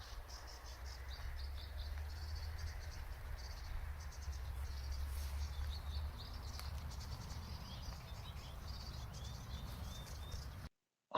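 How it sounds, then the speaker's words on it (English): Springtime outdoor ambience at Ballyvergan Marsh, a coastal wetland near Youghal: faint, scattered bird chirps and calls over a low steady hum of wind and insects, distant and quiet throughout. "it's alive with the sound of birdsong."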